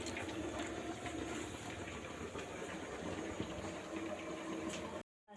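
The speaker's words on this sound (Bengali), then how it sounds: "এই যে ভাতটা এদিকে বসিয়ে দিয়েছি, ভাতটা ফুটছে" A pot of rice bubbles on the stove in a home kitchen, a continuous low churning hiss with faint irregular pops, steady and close before cutting off abruptly near the end.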